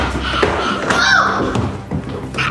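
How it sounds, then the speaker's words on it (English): A loud thud from a child falling inside a house, by a closet near the stairs, lands as a heavy thump among other knocks, with voices in the background. "There was this tremendous thud."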